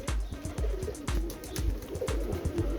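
Birmingham Roller pigeons coo close by in a steady series of soft, low, rhythmic calls repeating about every quarter second, with no talking.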